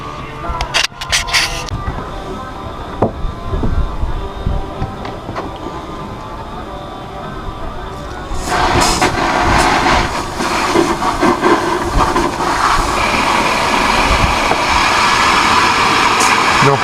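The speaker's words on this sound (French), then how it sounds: "je remplis le sac étanche d'eau pour pouvoir faire tourner le moteur" A catamaran's outboard motor runs in a waterproof bag filled with water for maintenance. Scattered knocks and handling noise come first, then a loud, steady engine roar starts partway through and continues to the end, with a person talking.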